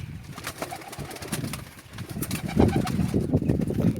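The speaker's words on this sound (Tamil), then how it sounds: "புறா குஞ்சியெல்லாம் கத்திக்கிட்டு இருக்குது" Young pigeons kept in cage racks on a farm keep up constant overlapping calls and coos. The busy, close chatter of many birds fills the whole stretch with no talk.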